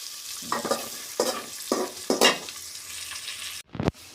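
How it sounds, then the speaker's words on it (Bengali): Potato pieces fry in mustard oil for beef tehari, a close sizzle broken by several rhythmic scraping stirs of a spatula, ending in a brief pause and a sharp clatter against the pan. "আলুগুলো একটু সুন্দর করে ব্রাউন কালার যখন হয়ে যাবে এভাবে করে ভেজে নিয়ে"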